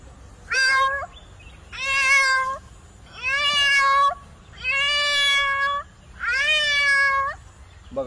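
A man mimics a cat with five loud, drawn-out meows in a steady sequence, each about a second long with short pauses between, close and clear.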